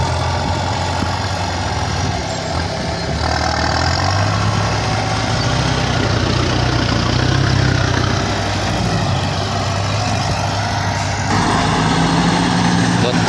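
A Kubota M9000 tractor engine runs continuously at a steady, loud working pace, a close and unbroken mechanical drone with no pauses.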